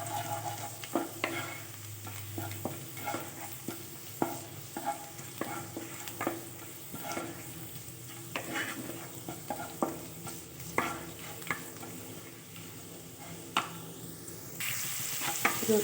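Chopped garlic and onion sizzle in hot oil for a pasta dish, a soft, continuous crackling fry punctuated by regular scrapes of a spoon stirring in the pan, fairly quiet and close, with no voices.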